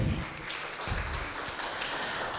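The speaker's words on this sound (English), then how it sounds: "Can we please give her a round of applause again?" An audience at a research and innovation event for a university research chair gives a round of applause, a steady wash of clapping at moderate distance lasting throughout, with low thumps near the start.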